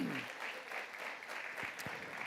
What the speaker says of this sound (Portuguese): Você pode aplaudir ao Senhor?